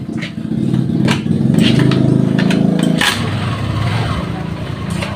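A Honda Vario 150 scooter engine cranks over and catches, then settles into a steady idle hum up close, loud and continuous, with no voices.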